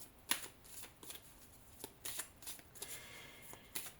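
A deck of oracle cards is shuffled by hand in a quiet room, with a run of quick riffling bursts and soft slaps at an uneven rhythm, close and faint.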